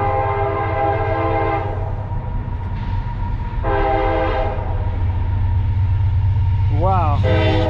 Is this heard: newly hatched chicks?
no